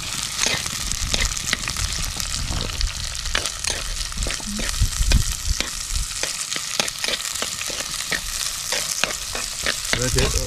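Shallots frying in oil for a sardine fish curry, a loud, dense, continuous sizzle with repeated crackling bursts and stirring scrapes close by, with no speech over it.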